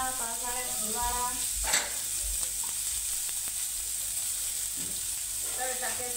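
Onions frying in oil give a steady close sizzle and hiss throughout, with a few clinks of stirring and a voice speaking briefly over it.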